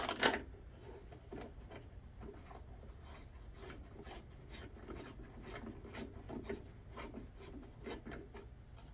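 A puller bolt is tightened to draw the flywheel off a Kawasaki Brute Force 650 ATV engine, giving faint, close, repeated ratcheting clicks and rubbing metal turns.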